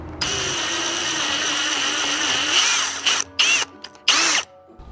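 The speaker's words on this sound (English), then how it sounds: "if you do have a drill and you can pre-drill the hole" A power drill pre-drills a hole in a wooden board, whining steadily at high pitch for about three seconds and then cutting out in two or three short bursts, loud and close.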